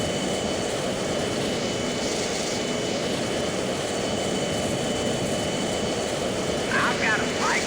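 Jet aircraft engine at full power in the Strike Fighters 2 flight game, a loud steady roar without pause across the whole stretch, with a faint brief chirp near the end.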